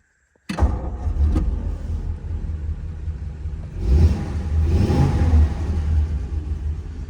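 A 1940 Ford Deluxe Tudor sedan with 17,862 original miles cranks briefly and catches, then settles into a smooth, low, quiet idle with a mild rise in revs partway through.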